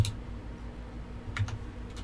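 Typing on a computer keyboard in a quiet room: a quick burst of key clicks at the start, then a short pair of keystrokes and one more tap near the end, close and faint.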